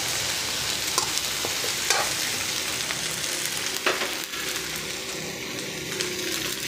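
A spoon stirs food in a frying pan over steady, loud sizzling, with a few scattered scrapes and taps against the pan, close up and with no talking.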